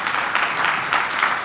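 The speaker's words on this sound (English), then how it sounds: "One more round of applause for Dr. Salzman." A lecture-hall audience gives a speaker a brief round of applause, a short burst of scattered clapping heard from within the room.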